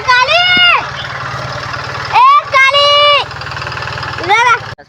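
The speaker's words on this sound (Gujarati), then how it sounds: "ટ્રેક્ટર હજી ખેડવાનું ચાલુ છે" A tractor engine drones steadily at a low pitch while ploughing a village field, running under loud, animated voices that talk over it in bursts.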